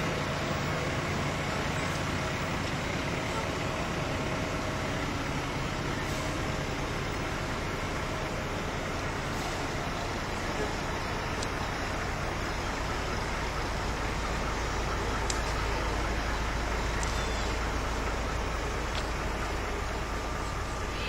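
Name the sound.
Bryan fire department engines passing in parade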